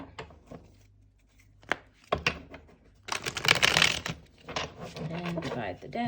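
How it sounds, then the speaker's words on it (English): Tarot cards being shuffled for a reading, a few short riffle bursts at first, then a longer dense run of crisp card flutters close by, with a voice talking partly over them. "Okay, we'll do one last shuffle."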